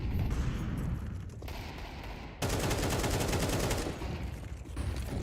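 Dense, sustained rifle fire from Galil and AK assault rifles in a professional Counter-Strike esports match, rapid bursts that stack into near-continuous volleys with a louder, fuller stretch midway through.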